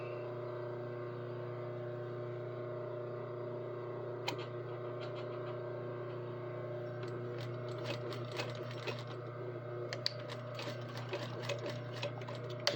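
A sewing machine runs steadily while stitching fabric, a continuous close hum with a faint ticking of the needle mechanism and a few sharper clicks toward the end, with no voices.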